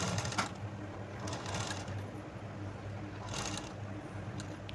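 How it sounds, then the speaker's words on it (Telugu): A sewing machine runs steadily, stitching the folded-in hem of a long frock, with a continuous close whirring rhythm that briefly rises in a few short bursts. "ఈ విధంగా మొత్తం ఇలా చుట్టూ ఇలానే స్టిచ్ చేసేయండి"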